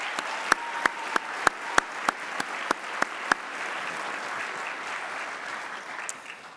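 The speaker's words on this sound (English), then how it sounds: "Could we give them a round of applause, please?" A winter commencement audience at Millikin University applauds in a large hall. Several loud, sharp, evenly spaced claps from someone close by stand out for about three seconds over the wider ovation, which then thins out.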